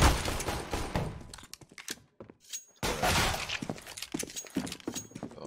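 Bursts of gunfire in the shooter video game CS:GO, rapid overlapping shots in two loud clusters separated by a brief quiet gap, with sharp impact cracks.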